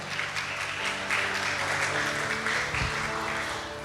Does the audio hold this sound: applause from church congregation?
yes